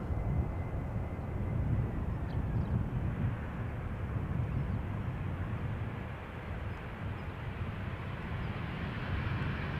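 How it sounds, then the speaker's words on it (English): A KLM Embraer 175 jet landing at Amsterdam Schiphol Airport, heard as a steady low roar of engines and wind rush throughout, fairly distant and muffled, with no voices. "let's look at the landing of KLM Flight 1516. Embraer 175 arriving from Norwich."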